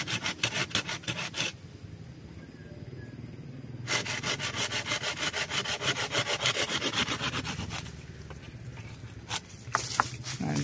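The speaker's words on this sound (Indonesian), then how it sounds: "Pakai gergaji teman-teman." A hand saw rasps steadily through a durian tree branch during pruning, in rapid back-and-forth strokes, close up, with a brief pause partway through before the sawing resumes.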